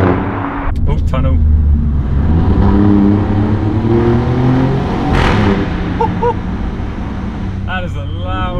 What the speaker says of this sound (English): That is a loud crackle.